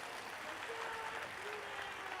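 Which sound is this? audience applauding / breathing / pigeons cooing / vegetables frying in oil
audience applauding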